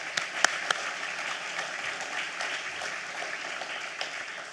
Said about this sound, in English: And I wanted to give him a round of applause.